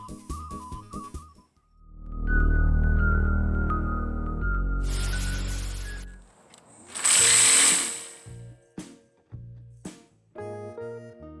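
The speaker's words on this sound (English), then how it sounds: "Just finished sanding it." A power sander whirs loudly on wood in two bursts with a grinding, abrasive tone, separated by quieter mechanical clicks and tones.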